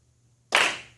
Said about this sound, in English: Now will you clap with me?